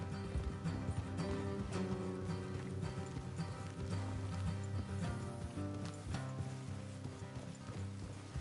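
Horse hooves clip-clop in a steady rhythm over game music, with an occasional faint whinny in the background.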